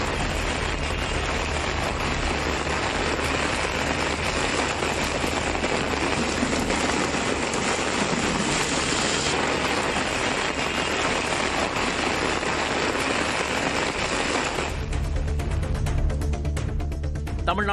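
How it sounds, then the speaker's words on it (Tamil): Heavy rain pours down over Madurai city streets as a loud, continuous broadband hiss that stays steady throughout, shifting in texture near the end. "மாநகர பகுதிகளான கோரிப்பாளையம், சிம்மக்கல், பெரியார் பேருந்து நிலையம், அண்ணாநகர், முனிச்சாலை, தெற்குவாசல் உள்ளிட்ட பகுதிகளில் மழை கொட்டி தீர்த்தது."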